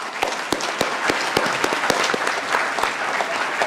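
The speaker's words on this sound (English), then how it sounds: "let's have a round of applause for our panelists" An audience applauds panelists at a hemp research talk, a short round of clapping with distinct individual claps popping out above a steady crowd patter, moderately loud and close.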